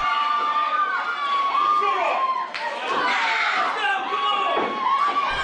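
A wrestling crowd at a championship match cheers and shouts loudly throughout, with high children's voices and sustained whoops in a dense, continuous roar.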